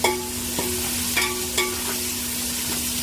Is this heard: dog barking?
no